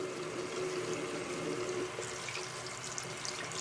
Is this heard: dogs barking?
no